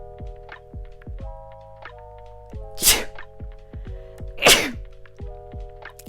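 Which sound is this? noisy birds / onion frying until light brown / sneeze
sneeze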